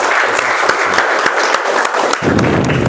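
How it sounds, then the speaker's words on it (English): A Toastmasters club meeting audience applauds a speaker, the clapping loud and continuous with a few sharper individual claps standing out near the end. "So please give him a big round of applause, sir"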